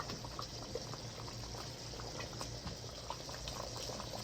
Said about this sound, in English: I'm going to let this boil for 5 minutes before I put the fried turkey.